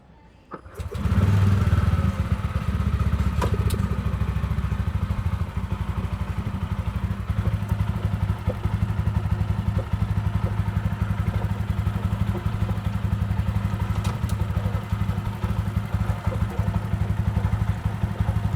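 TVS Ronin motorcycle running in gear after a chain and sprocket cleaning, its engine starting up and holding a steady, close, even hum with light mechanical clatter throughout.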